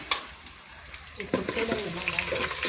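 Garlic frying in a pan with green chillies, a close bright sizzle that swells as it is stirred partway through.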